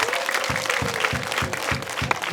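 A crowd claps in unison at an event, sharp rhythmic claps landing roughly every half second over a steady bed of scattered clapping and faint voices, loud and close.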